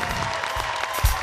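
Audience applause fills a concert hall, a steady wash of clapping from many hands at moderate loudness with a brief swell near the end.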